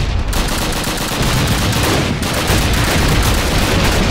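Call of Duty: United Offensive battle gunfire, dense and continuous rifle and machine-gun bursts with heavy booming reports, loud and close across the whole stretch with no talking.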